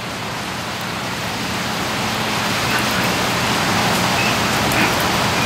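Heavy rain pours down in a dense, steady hiss, loud and close, unbroken by any voices.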